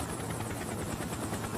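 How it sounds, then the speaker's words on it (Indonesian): A steady, loud helicopter rotor roar fills an anime scene as the aircraft flies, a continuous dense whirring with no voices over it. "Helikopter yang dikirim Noro pun datang"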